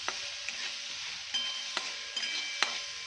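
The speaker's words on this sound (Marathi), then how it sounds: "एक दोन मिनटं आपण व्यवस्थित त्याला परतून घेऊया" Fresh green peas sautéing with green chili thecha in a pan, a bright, steady close sizzle punctuated by several sharp spatula stirs and taps.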